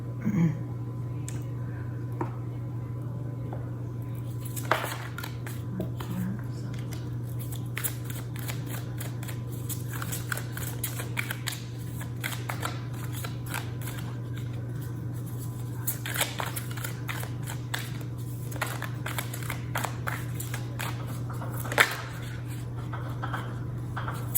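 Tarot cards are shuffled during a card reading, producing quiet, irregular riffling and tapping clicks over a steady low hum, with an occasional sharper snap.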